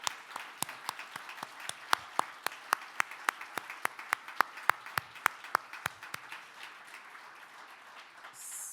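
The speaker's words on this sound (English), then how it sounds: "can we all give our young leaders a real round of applause because you've been fantastic" An audience claps for young leaders at the closing of a Safer Internet Forum, a fairly sparse round of distinct, sharp claps that thins out and fades toward the end, with no voices.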